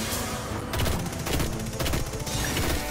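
Rapid pistol gunfire in the video game Destiny 2 Shadowkeep, dense bursts of shots and impacts running loud and continuous for about three seconds with no break.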